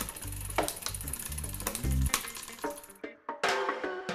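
A bicycle rear derailleur shifts up the cassette with crisp mechanical clicks over a whirring, ratcheting drivetrain. The clicks come close and distinct, and a few sharp snaps stand out near the end.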